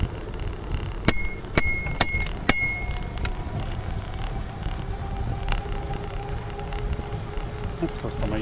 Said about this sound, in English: That's the first time I used my bell.